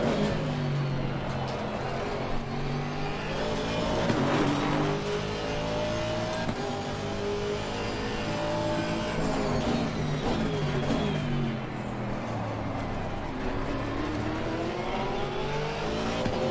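Race cars from the sim racing game Assetto Corsa Competizione, in an endurance race at Suzuka, drone steadily with engine revs rising and falling as cars pass, under a continuous loud engine texture with no talk.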